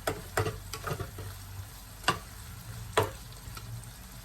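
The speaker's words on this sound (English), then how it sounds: "Get all of this fresh ingredients incorporated into our oil" Fresh ingredients sizzle in oil in a very small pot while a utensil stirs them, several scraping knocks punctuating a soft, continuous frying hiss, close and fairly quiet with no talking.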